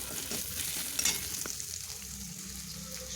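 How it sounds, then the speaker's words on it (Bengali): Ground spices, including garam masala, sizzling in hot oil in a pan for a vegetable chop filling, a steady crackle with light stirring scrapes and no talk. "এখন এটা খুব ভালো করে তেলের সঙ্গে একটু ভেজে নেব।"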